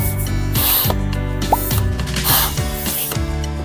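A hand air pump inflates an inflatable pool with repeated rhythmic whooshing strokes and mechanical creaks, loud and close.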